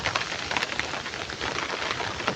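Steady rain during a windy storm, a dense continuous hiss of drops striking surfaces with no gaps, fairly loud and close, with no voices.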